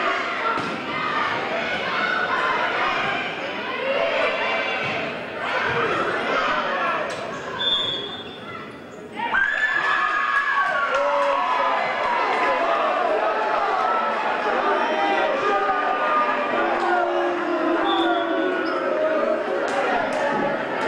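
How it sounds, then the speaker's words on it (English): A loud, continuous home crowd roars and cheers through a school district-final volleyball match between Brentwood and a rival, with scattered ball thuds and shouting voices. The noise dips briefly before swelling back to full strength. "Our crowd is very enthusiastic tonight."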